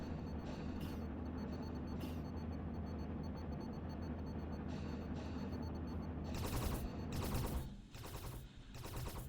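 Spaceship guns fire in the Space Haven video game: faint, rapid bursts of gunfire run under a low, steady rumble, with sharper volleys toward the end.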